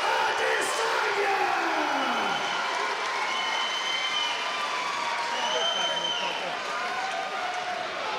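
A large arena crowd roars and cheers for kickboxer Israel Adesanya's ring introduction, a dense sustained wall of cheering and applause with an announcer's voice booming over it at first.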